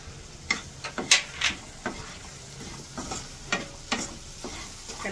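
Spice powders, including sambar chilli and cumin powder, sauté in oil on a low flame for vatha kuzhambu, with a quiet sizzle under a run of rhythmic scraping strokes from a spoon stirring the pan.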